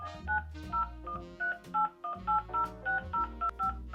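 A run of short telephone keypad tones entering a card number, about a dozen beeps in quick uneven succession, close and clear with a low hum underneath.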